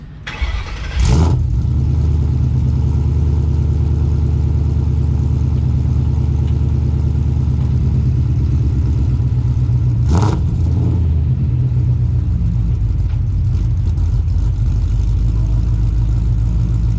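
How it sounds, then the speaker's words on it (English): A Ford Mustang S197 engine with aftermarket cams fires up and settles into a loud, lumpy idle with a steady rhythmic chop, briefly blipped once partway through. "Let's hear those cams slightly chop."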